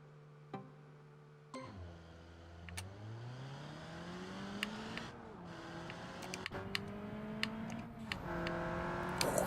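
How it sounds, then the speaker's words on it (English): Car engine in the BeamNG driving simulator, revving and rising in pitch through gear changes, with a steady mid-range drone and sharp clicks and knocks throughout, loud and continuous. "The engine sounds so good"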